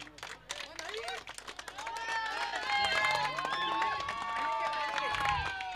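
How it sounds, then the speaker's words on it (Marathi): Applause and cheering from a crowd at a cricket final prize-giving for the man of the match, with scattered clapping that swells into a sustained ovation under someone speaking over a microphone. "जोरदार टाळ्या वाजवायला काही एक हरकत नाही"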